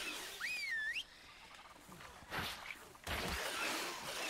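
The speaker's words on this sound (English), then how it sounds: "I whistled them to attack it there" A player's whistle command to tamed dinosaurs in the ARK survival video game: a single bright, rising and wavering whistle tone, followed by a couple of soft whooshing game sounds.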